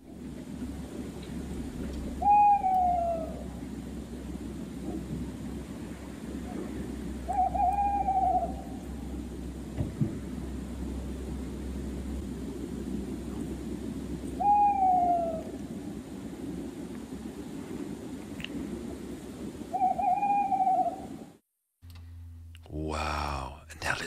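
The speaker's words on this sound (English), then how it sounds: "It's a tawny owl." A tawny owl hooting four times at even intervals, each a wavering drawn-out hoot, over a constant low background hiss, followed at the end by a brief burst of other sound.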